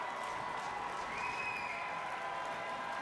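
Hockey crowd at a CCHA playoff game between Bemidji State and Ferris State, applauding and cheering their team in a steady, dense wash of clapping that fills the arena throughout, fairly distant and continuous.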